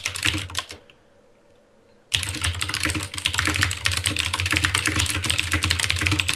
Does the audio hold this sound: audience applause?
no